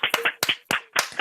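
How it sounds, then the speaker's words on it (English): A few people clapping for poets at an online poetry reading, in three or four quick bursts of close, sharp claps separated by brief pauses. "Let's unplug and or unmute and give applause."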